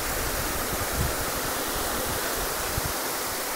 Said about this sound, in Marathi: बघा आता पाणी खळखळ खळखळ वाहत आहे.